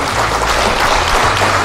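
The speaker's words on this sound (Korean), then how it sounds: "박수 부탁드립니다." Dense, steady applause from a crowd at a book launch celebration in Korea, filling the whole short stretch at an even, fairly loud level with no pauses.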